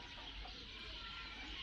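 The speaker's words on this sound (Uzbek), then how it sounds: "mana oq tovuqlar, mana oq xo'roz" White hens and a white rooster cluck softly at a zoo in Turakurgan, Uzbekistan, their faint calls sitting low under steady outdoor background noise.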